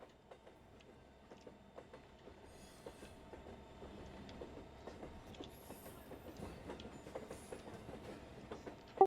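Train engine running in the video game ArmA 3, a quiet rolling rumble with rhythmic clickety-clack of wheels over rail joints and occasional metallic squeals, heard alone without talk.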